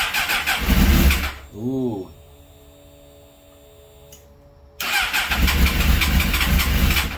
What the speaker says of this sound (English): I need to hold the clutch in and press the starter button.